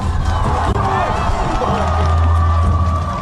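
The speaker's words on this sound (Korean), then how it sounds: "안수 대표에게 다시 한번 박수와 함성 부탁드립니다." A loud outdoor crowd at a campaign rally claps and cheers, with shouts and whoops over a constant roar, and a low sustained hum running underneath.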